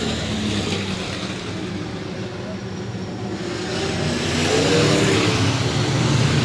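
Race car engines rumble and rev on a dirt oval track at a Southern Nationals night race, building louder toward the end, with a voice speaking over the noise.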